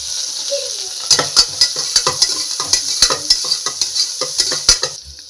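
Cinnamon, bay leaf, chili, cumin, ginger-garlic paste and onion sizzle in a pan for vegetable khichdi while a spoon stirs and scrapes in quick, steady strokes, with soft clinks of metal against the pan throughout.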